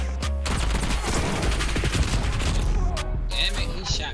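Hostile gunfire aimed at the player in a shooter video game: a loud, dense fusillade of overlapping shots and bursts, close and continuous, with scattered sharp cracks and a brief pause near the end.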